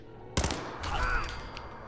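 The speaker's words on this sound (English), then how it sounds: "a lot of people over across at the other building are using things like shotguns and pipe pistols" Fallout 4 gunfire from shotguns and pipe pistols: one sharp, loud blast followed by a rattling, echoing trail of further shots at moderate distance.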